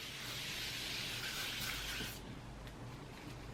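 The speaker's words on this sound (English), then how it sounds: "This is like a toner and a setting spray and like a refresher all in one." Rose hydrating setting mist sprayed onto a face, a close, soft hiss lasting about two seconds before fading into quiet room tone.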